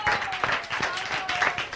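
A church congregation applauds and cheers for Jesus at a Christmas service, a dense wash of clapping with voices mixed in throughout.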